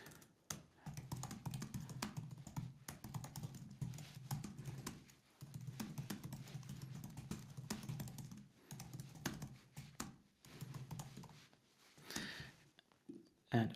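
Someone types on a computer keyboard in quick, close bursts of dense key clicks with brief pauses between runs, quiet and without talking.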